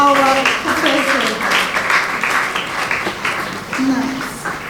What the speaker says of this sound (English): Let's have another round of applause for our professor